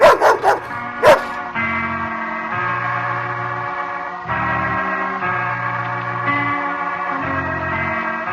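A small mongrel dog barks and yips in a radio drama, with a few sharp barks at first and then a run of whiny yelps and whimpers, close and loud.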